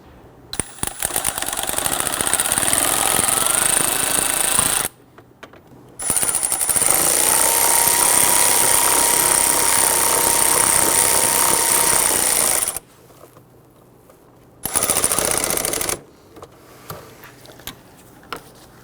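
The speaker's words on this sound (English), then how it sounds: "then we'll come on back with our ratchet and we'll snug those down" A power ratchet snugs down the screws on the windshield washer reservoir of a 2011-2023 Dodge Charger 3.6L V6, running in loud, continuous buzzing bursts separated by short pauses.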